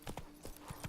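Horse hooves clip-clopping in The Witcher 3, four steady evenly spaced hoof strikes at a trotting rhythm, moderately close and clear over a faint low game hum.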